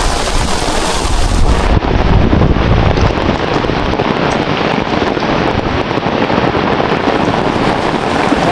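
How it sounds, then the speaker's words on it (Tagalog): Strong wind roars steadily and loud, a dense blustery rush buffeting the microphone throughout, with no voices. "ang lakas ng hangin"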